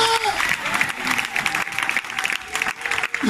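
A church congregation applauding during a worship service, with rapid, dense clapping that pulses unevenly and is overlaid by a raised voice and shouting.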